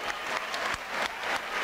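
An arena crowd applauds Canarian wrestlers at the opening of a lucha canaria ring, dense steady clapping with a few louder claps standing out.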